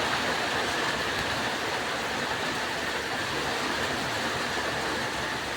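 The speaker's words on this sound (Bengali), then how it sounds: "টিনের পরে টপ টপ করে শিল পড়ছে" A dense, unbroken roar of hard pattering, like hail drumming on a metal roof, loud and steady throughout.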